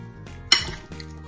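A dressed salad is tossed thoroughly in a bowl, giving one sharp clink of utensil against the dish followed by brief rustling and scraping; the sound is close and short, with no talk.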